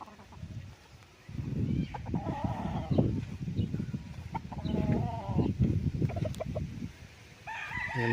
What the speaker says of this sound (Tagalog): May mga kulungan ng manok.